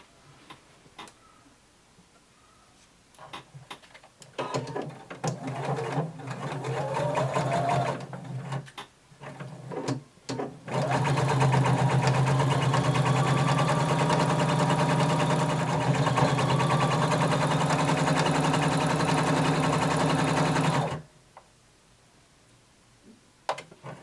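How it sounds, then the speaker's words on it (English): A sewing machine stitching a tapered skirt to its waistband with a 5/8 inch seam allowance. Short stop-start bursts of close mechanical whirring come first, then one long steady run before it stops. "now we're going to sew our skirt to the bottom of our band using 5/8 of an inch seam allowance"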